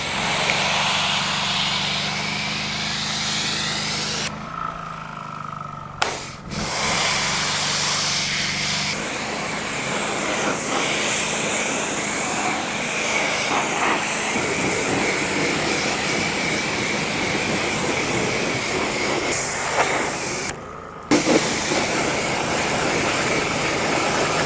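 Air blower blasting sand and dirt out of a car interior during mobile detailing, a loud steady rushing roar that runs almost continuously, with a couple of short breaks when the airflow stops.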